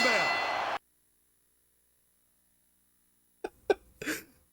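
A short bright clang of a wrestling ring bell in Smackdown vs Raw 2006 opens the clip, then silence, followed by a few brief sharp vocal-like bursts.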